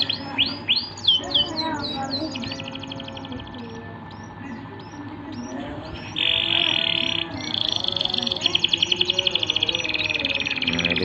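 Emprit (munia) bird chirping and calling repeatedly while being hand-fed, a busy series of close, high tweets and short trills, with a steady buzzing tone partway through.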